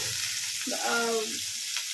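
Pumpkin cut into thin strips like potato fries sizzles in hot oil in a pan. The hiss is steady and bright, with a brief tonal hum in the middle.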